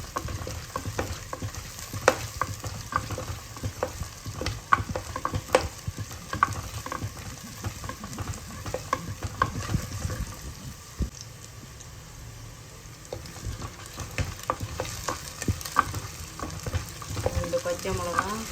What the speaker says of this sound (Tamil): இதுக்கடுத்து இதில் 3 பல் பூண்டு போட்டு வதக்கணும்.